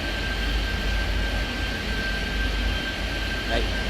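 Jet airliner engines roar steadily during a takeoff roll in the airport management game Airport Madness 3D, a continuous loud broadband rumble with a faint whine throughout.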